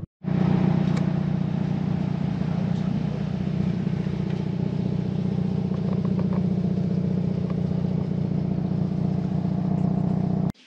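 Hyundai i30N on the road, heard from inside or close by: a steady, loud engine drone with a low rumbling tone, holding even throughout with faint clicks and rattles.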